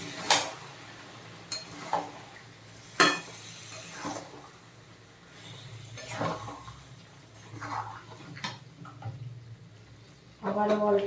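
Mutton curry being stirred in a pot with hot water added a little at a time, giving scattered spoon-on-pot clinks and scraping at irregular intervals, with a soft sizzle underneath and a louder clatter at the end.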